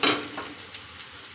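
Onions frying in a pan give a sharp burst of sizzle that quickly fades to a softer, steady hiss.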